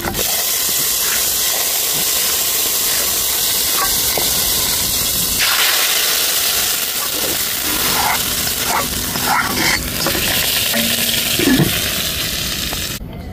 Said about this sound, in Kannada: ಒಗ್ಗರಣೆ ರೆಡಿ ಆ್ಯಂಡ್ ಒಗ್ಗರಣೆ ಪಾಡೋಡ್ಗ